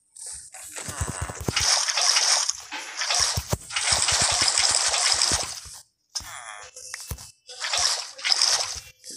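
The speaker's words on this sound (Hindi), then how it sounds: "अब पानी भर के लाते हैं इसमें" Water splashes and gushes in Minecraft as a bucket is filled, bursts of sloshing and dripping broken by short pauses, close and fairly loud.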